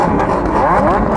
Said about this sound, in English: I can already notice that everybody's revving non-stop